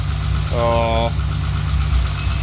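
A BMW E30 320i with the M20B20 engine idles steadily with a low, even hum, and a faint ticking noise is in the mix, recorded close by with no one talking.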